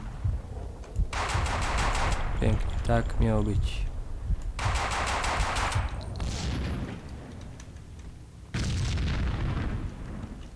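Explosions and gunfire in the video game Max Payne 2 come as bursts of rapid automatic fire and booming blasts, loud and close, with someone talking over them.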